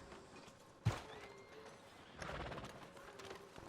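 Horse hooves clip-clop faintly in Red Dead Redemption 2, stopping outside a sheriff's office, with a sharp thump early on and a soft, steady run of hoof and ambient noise afterward.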